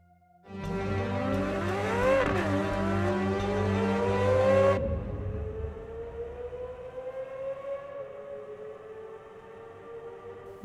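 Chevrolet C8 Corvette Z06 naturally aspirated V8 revving hard toward its 8,600 RPM redline. The loud, rising wail climbs and dips for several seconds, then cuts off sharply and a lower, fading engine tone lingers afterward.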